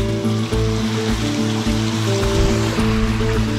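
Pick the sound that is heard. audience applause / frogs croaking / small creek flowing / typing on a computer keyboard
small creek flowing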